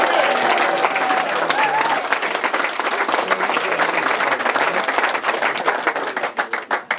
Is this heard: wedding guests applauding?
yes